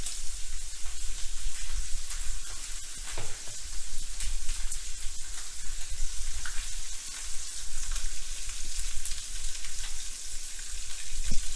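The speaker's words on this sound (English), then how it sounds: "you can hear we're going to get a nice sear on those" Steady, loud sizzling of chicken searing skin side down in a hot pan for poulet basquaise, a continuous crackling hiss with small pops throughout, no talking.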